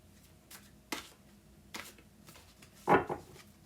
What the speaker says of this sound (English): it can be a little bit difficult to shuffle